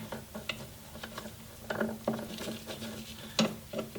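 Small light clicks and ratcheting ticks as a nut is spun down on an RC car's 4wd cable shifter, faint and close, with irregular taps and a couple of sharper clicks.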